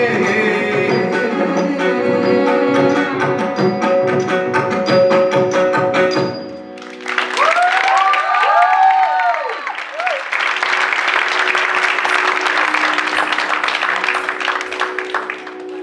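Audience applause breaks out after a Bharatanatyam dance performance at an arangetram, a loud, dense wash of clapping that follows music and fills the second half of the clip.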